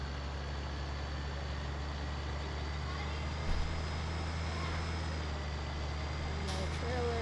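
Tractor engine in Farming Simulator 15 idles with a steady, low, droning hum that holds evenly throughout, with a brief thump partway through.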